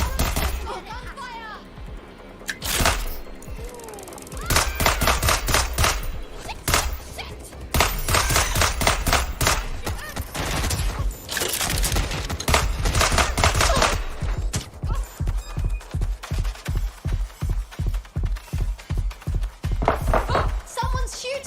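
Gunfire in Watch Dogs Legion: scattered shots and loud bursts, ending in a long run of rapid, evenly spaced shots over a busy game background.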